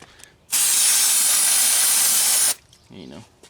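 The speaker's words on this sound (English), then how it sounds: "I'm gonna try and actually spray brake clean on these once I'm done" A loud, steady aerosol brake cleaner spray hisses for about two seconds onto car brake parts, starting and stopping abruptly, with faint handling noises and a brief low murmur afterward.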